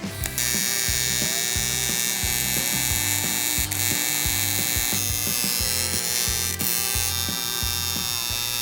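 Mounts are welded onto the headlight bucket of a 1976 AMC Pacer, a close, harsh electric buzzing crackle that pulses in a steady rhythm of short bursts, without pause.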